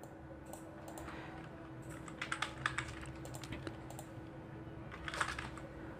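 Quick bursts of typing on a computer keyboard, soft close key clicks in short runs over a low steady hum.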